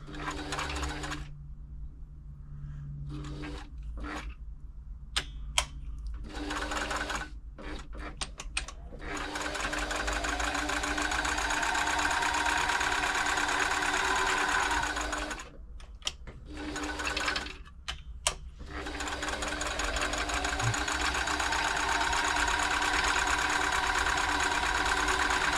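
A Riccar 8400 sewing machine, being serviced and test-stitched without a buttonhole foot, runs with a loud mechanical whir in several long bursts, broken by short pauses and brief stop-start stretches.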